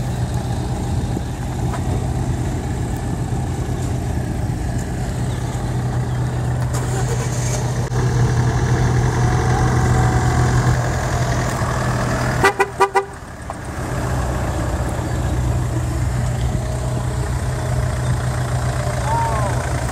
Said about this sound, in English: New car, new